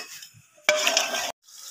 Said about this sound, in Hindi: हाँ जी ये घी गर्म हो गया, मैंने प्याज डाला इसमें।